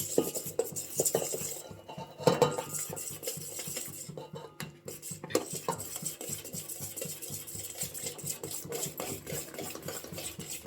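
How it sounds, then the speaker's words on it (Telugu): A spoon scrapes and clinks against a vessel while arisalu dough is stirred and flour is poured in little by little, a quiet irregular rhythm of scraping and clatter with brief pauses. "ఇప్పుడు మళ్ళీ ఒకసారి బాగా కలిపి కొద్ది కొద్దిగా పిండి పోసుకోండి పోసుకుంటూ కలపండి"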